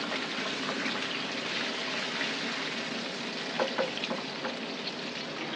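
Pabda fish fry in hot oil in a home kitchen, giving a steady, close, continuous sizzle with a few sharper pops and spatters midway, no talking.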